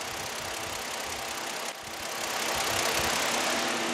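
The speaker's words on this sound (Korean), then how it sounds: "바로 엔진 소리 한번 들려드릴게요." A 2007 Kia Opirus GH380 V6 idling with the hood open, a quiet, smooth and steady hum with faint mechanical ticking, close by and with no one talking.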